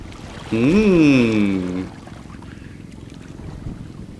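A fishing boat from Mỹ Tân, Ninh Thuận motors toward the harbor. A brief wavering tonal call rises over it early on, then the low engine and wind rumble carry on steadily on their own.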